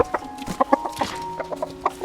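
A chicken clucks close by in a quick, irregular series of short, sharp notes, clear and alone.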